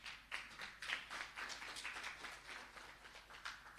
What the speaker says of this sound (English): Give the country a clap.